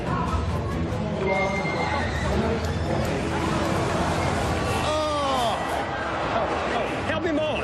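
A horse at a rodeo wild horse race neighs and whinnies repeatedly, with hoof clatter and busy crowd noise and voices around it.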